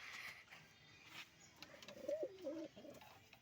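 Pigeons in a small mini loft, soft low cooing calls near the end, faint and close, with a few light rustles and clicks earlier and no clear talking.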